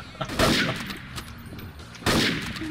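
Gunfire in Garry's Mod comes in two loud bursts of close shots, with speech overlapping.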